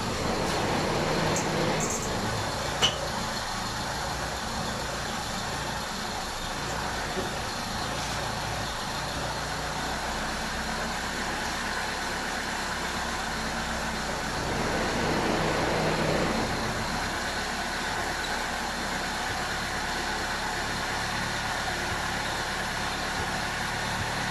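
Steady, rough-sounding car engine idling close by while the idle mixture screw is turned, a continuous low rumble that swells briefly around the middle and then settles.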